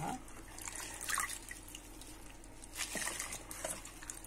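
Water drips and splashes as kale is rinsed in a large basin of water, soft irregular patter and trickling at close range with a couple of louder splashy moments and no speech.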